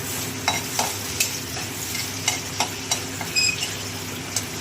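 Chillies and garlic frying in a pan for taro leaf greens, with steady sizzling and a series of scraping stirs spaced irregularly throughout, fairly close.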